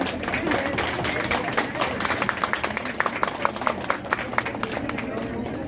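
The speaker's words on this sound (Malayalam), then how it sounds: "നല്ലൊരു കയ്യടി കൊടുക്കുക" Audience clapping at a stage event during a temple festival celebration in Delhi, a dense, steady patter of many hands filling the room, with a voice speaking over it.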